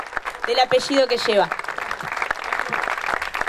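Applause rises at a youth camp as an announcer's voice speaks over it. Scattered claps then fill in to a steady, moderately loud round.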